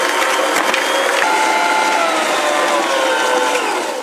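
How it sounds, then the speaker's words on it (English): A stand mixer creams butter and sugars for cookies, a loud, steady whirring motor with a grinding, ratcheting texture that runs unbroken and close, with no talking. "We're going to go ahead and get the butter and the sugars creamed together."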